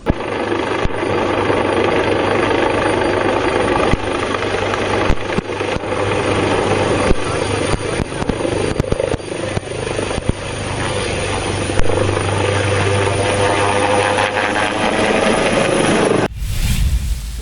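A helicopter coming in to land in Karnataka, India, a loud, continuous engine whine and rotor drone held steady throughout before cutting off abruptly at the end.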